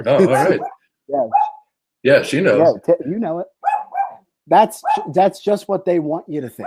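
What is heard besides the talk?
dog barking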